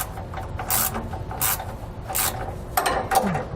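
A 15mm wrench turns a bolt while a nut is held on a 2017 Winnebago's helper-spring mount, giving a few close, sharp metallic ratcheting clicks in short bursts.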